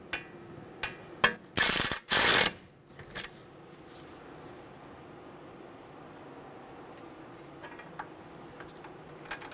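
Bolt tightened with a ratchet on a 2011-2014 Hyundai Sonata front wheel hub, giving a few scattered clicks and then two loud, dense bursts of rapid ratcheting up close, followed by quiet workshop background with faint taps.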